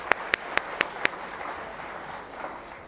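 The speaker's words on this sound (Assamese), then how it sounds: "এটা হাত চাপৰি।" Five sharp, evenly spaced hand claps ring out close by, followed by a softer wash of scattered clapping and room noise that fades away.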